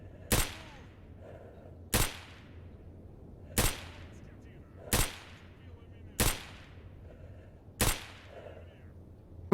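Gunfire in the video game Stalker Anomaly: six evenly spaced single shots about every one and a half seconds, each a sharp crack with a short decaying tail, over a faint low hum.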